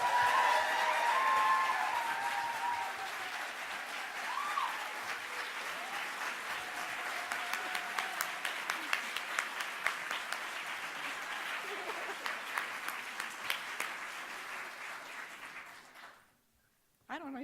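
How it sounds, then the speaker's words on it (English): Lecture audience at a folklore talk applauds warmly, loud at first with brief whoops, then thinning to scattered individual claps before fading out near the end. "give raucous, thankful applause to Michael Ann Williams"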